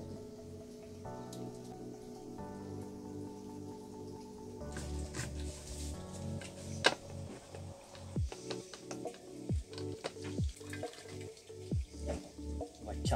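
Water drips and splashes irregularly from an outboard motor drain, with scattered drops and a trickling flow growing louder, close by and fairly quiet.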